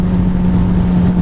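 A Suzuki GSX-R 750 motorcycle engine drones loudly and steadily under strong wind rush as the bike speeds along in traffic.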